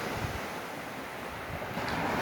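Rough sea waves crash and wash over stones and a concrete edge, a loud continuous roar of surf with wind buffeting the microphone, swelling slightly toward the end.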